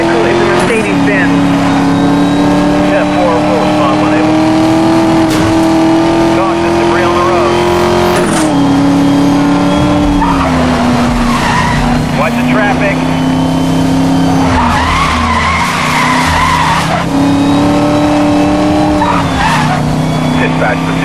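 A Mercedes-Benz SLS AMG engine roars through a Need for Speed police pursuit, holding a loud steady drone with pitch shifts at gear changes. Tire squeals and skids come and go, and a voice talks over the racing.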